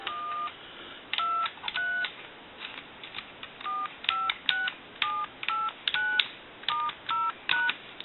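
Touch-tone keypad on a Western Electric 2500 telephone dialing a string of DTMF digits, each a short steady dual tone, some in quick pairs, over a continuous hiss line, clear and close.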